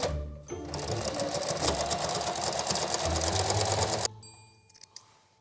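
A sewing machine runs steadily, stitching a double-sided gingham and floral apron in one continuous close burst of about three and a half seconds, then stops, leaving light handling clicks.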